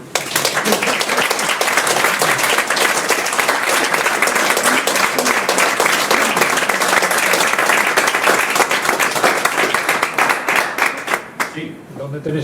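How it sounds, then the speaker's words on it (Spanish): An audience bursts into loud, sustained applause after a conference presentation on a Celtiberian technology centre in Tragacete, the dense clapping holding steady before fading near the end. "Aplauso."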